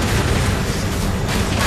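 Cannon and rocket fire in the video game Saints Row IV roar together as one loud, continuous wall of explosive blasts and booms, dense and unbroken throughout.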